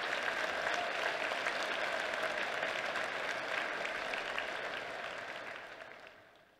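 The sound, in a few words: audience applause for veterans and their families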